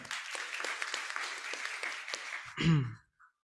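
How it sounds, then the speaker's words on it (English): Applause for the speaker at a Teachers' Day programme, many hands clapping densely for over two seconds, then cut off by a short voiced sound and silence. "Once again, a huge round of applause for sir."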